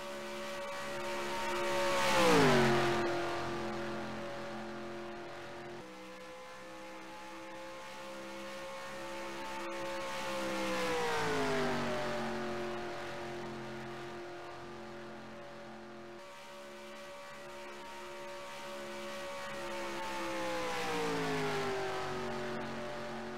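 Race cars in the Hangover 200 roar past in three loud passes, engines rising and then falling in pitch as each group sweeps by, with no voices over them.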